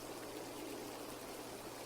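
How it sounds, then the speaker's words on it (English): Steaming water trickles slowly into an outdoor spa in a snowy mountain setting, a soft, continuous watery hiss that stays faint and even with no voices. "the only sound you can hear is the slow trickle of the steaming water into the spa"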